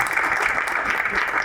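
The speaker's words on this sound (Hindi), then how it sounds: "सही जवाब, तालियां हो जाएगी।" Studio audience on a Ramadan quiz show applauds a correct answer, a dense, steady burst of clapping filling the whole moment at close range.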